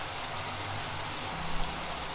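Steady rain falling in the Minecraft video game, a soft, even wash of hiss across the whole stretch with no talk over it.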